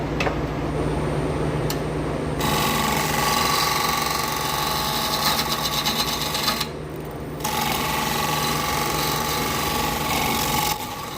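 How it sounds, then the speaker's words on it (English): A wood lathe spins a white oak bowl while a scraper works its backside, giving a loud, steady grinding rasp with a brief pause partway through before the cutting resumes. "I'm gonna scrape this backside here."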